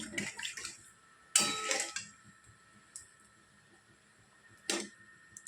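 Water is poured into a pot of thin ghugni made with boiled peas and potatoes. Two brief, close splashing pours stand out over faint kitchen clinks, and nobody speaks.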